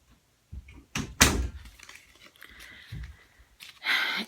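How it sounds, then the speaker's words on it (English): A door is shut indoors, with a soft rustle and bump followed by a louder thud of the door closing, then a few quieter handling sounds and a final swish. "Close the door all the way, please."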